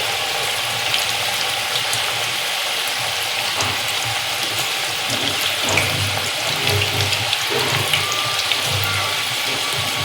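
Water pours steadily into a bhaji batter, a continuous close rushing and splashing sound that lasts throughout without any speech.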